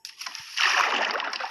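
Swimming-pool splash in the Minecraft video game as the player drops into the water: a brief thin entry followed by a loud, sustained sloshing rush of water that fills the rest of the moment.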